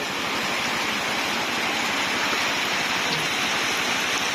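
Steady, dense rain falls continuously, a broad hiss of drops with no voices, close and fairly loud throughout.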